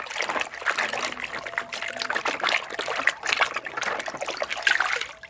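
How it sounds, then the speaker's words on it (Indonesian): Toys such as a toy truck, cement mixer and animal figures are swished and rinsed in water, making close, irregular trickles, drips and small splashes with a faint voice in the background. "Kita masukkan ke dalam air, kita cuci biar bersih teman-teman."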